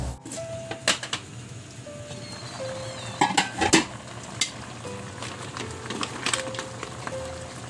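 Bamboo shoots and snails sizzling as they cook in coconut milk, a steady frying hiss with occasional clinks of a spoon against the pot.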